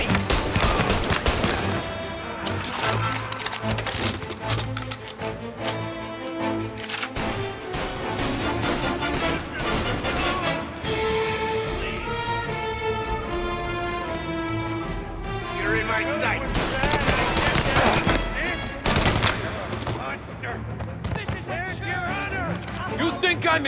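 A shootout in the Mafia remake game, with repeated loud gunshots and bursts of fire crackling over background score and frantic shouting voices, continuing in clusters throughout.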